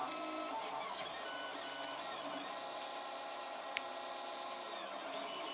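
A 3D printer finishing a print, heard as a quiet, steady mechanical whir and hum with faint stepper motor tones and one small click, continuous and fairly distant.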